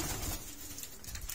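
Soft, low pigeon cooing in a steady murmur, close by, with a faint rustling hiss of background noise throughout.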